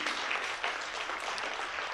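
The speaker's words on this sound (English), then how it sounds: "on peut l'applaudir si vous êtes d'accord" A symposium audience applauds in a soft, steady, fairly distant wash of clapping that lasts the whole short moment.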